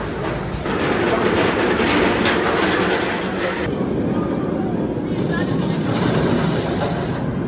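The Raging Bull roller coaster train at Six Flags Great America runs along its track with a steady, loud roar and rumble of wheels, a continuous wash of noise carrying faint voices beneath it.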